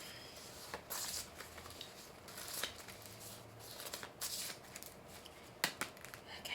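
A deck of playing cards is shuffled close by, giving quiet bursts of riffling and flicking in short repeated runs against a faint, quiet background.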